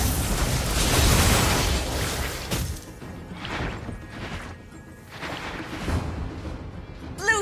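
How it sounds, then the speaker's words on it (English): A turret being destroyed in the Mobile Legends video game during a tournament match, heard as a loud rumbling crash and burst that fades into softer scattered effects and crowd-like noise. "Blue team turret has been destroyed."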